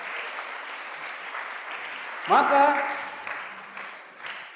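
An audience at a motivational seminar in a pesantren (Islamic boarding school) in Pandeglang applauds in a soft, continuous patter, and a voice briefly speaks over the clapping partway through.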